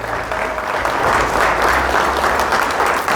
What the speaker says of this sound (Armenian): Մատ էլ հանդիսաբանին ծափեր տվեք